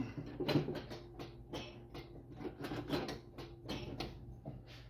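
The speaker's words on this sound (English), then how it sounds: "I'm going to crank her over and let's see her again" An International Scout engine turns over on its starter in a run of uneven mechanical cranking bursts, close and moderately loud, with creaking and clunking under it.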